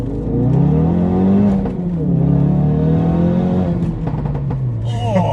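A 400 BHP Mountune Ford Focus RS pulls hard in first gear, engine revs climbing loudly and steadily from inside the cabin, with a brief rise of voices near the end.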